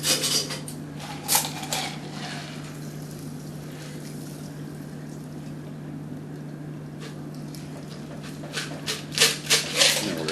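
Ice goes into a cocktail glass for a Tom Collins, with bursts of light clinks and rattles at the start and again near the end over a steady low hum, with no talk.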